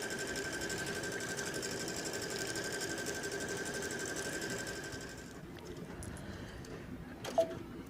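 A sewing machine stitches at full speed with a steady, fast mechanical whir, then stops by itself midway and leaves quiet room noise with a brief click near the end.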